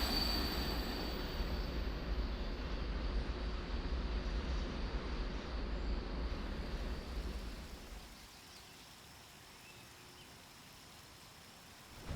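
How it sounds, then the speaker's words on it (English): A train rumbles loudly with high metallic wheel squeal, then the noise drops off sharply as it comes to a stop, leaving quieter ambience. "The train just pulled up."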